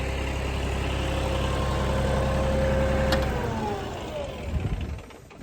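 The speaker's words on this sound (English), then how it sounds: "So let me shut the tractor off so we can chat." A tractor engine idles with a steady, loud low rumble, then is shut off, its pitch sagging and the noise dying away into a few final knocks.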